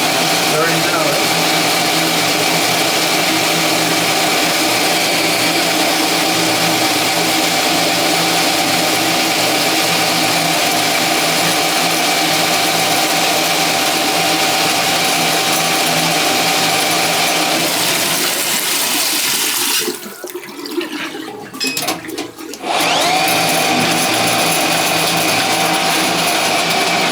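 A drain snake machine clearing a clogged bathtub in an apartment whirs and drones loudly and steadily at close range. The motor cuts out briefly near the end before starting up again.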